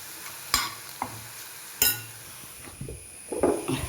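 Curry leaves drop into hot oil in a punarnava (thazhuthama) stir-fry, giving several sharp crackling bursts and short spatula scrapes against the pan over a soft sizzle.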